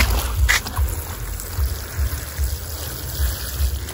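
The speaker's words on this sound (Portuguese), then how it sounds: "Vou botar um pouquinho de água aqui nesse coco que Liro plantou aqui, ó." A little water is poured onto a young coconut plant in a vegetable garden, giving a soft trickling, splashing stream close by, with occasional light knocks and no talking.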